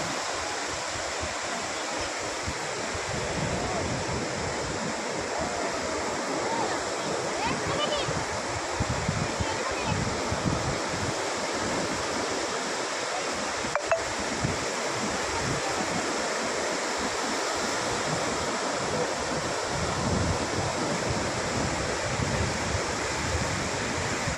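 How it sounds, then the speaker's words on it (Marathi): Ocean waves break continuously on Bhate beach, a broad, loud wash of surf with steady roar and occasional swells, heard up close with faint wind. "लाट मोठी येते बघ"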